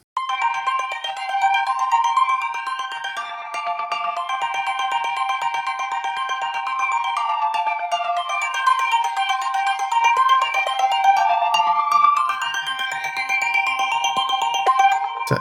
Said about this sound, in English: Even tape flange sounded really cool as well.